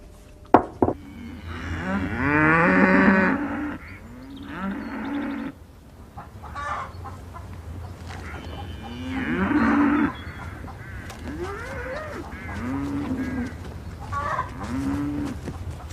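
Cows moo several times, some calls long and drawn out and others shorter, spread across a quiet farmyard backdrop with a few sharp knocks near the start and faint bird calls in between.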